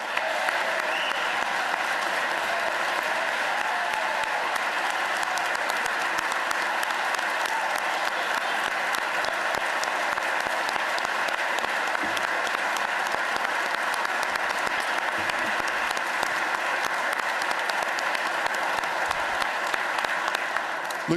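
An audience applauds at a governor's budget address, a dense, sustained roar of clapping that fills the whole stretch at an even level.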